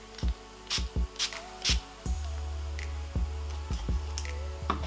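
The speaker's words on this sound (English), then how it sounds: "I'm going to use some heat protection spray" Several short hissing bursts of heat protection mist sprayed on hair, spaced irregularly, mixed with clicks and handling noises close to the microphone.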